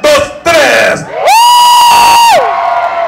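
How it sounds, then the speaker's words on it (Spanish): A large crowd of Mexicans at a 15 de Septiembre Independence Day celebration in Atlanta, Georgia, lets out a loud shout on cue, with whoops and yells swelling into one sustained roar lasting about a second. "Quiero el grito más fuerte de todos los mexicanos a la de tres"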